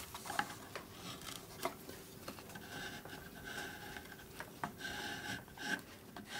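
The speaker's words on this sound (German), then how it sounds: "Die Kunst des Schnitzens. Wegschneiden, was nicht hingehört." Knife carving wood for a cuckoo clock, a close run of short scraping and scratching cuts with sharp clicks in an irregular rhythm, steady and fairly quiet with no voices.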